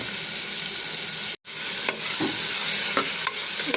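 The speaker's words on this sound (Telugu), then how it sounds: "బాగా ఫ్రై అవ్వాలండి ఉల్లిపాయ" Onions and green chilies fry in about three spoons of oil, giving a loud, steady sizzle with a few stirring clicks and a brief drop to silence partway through.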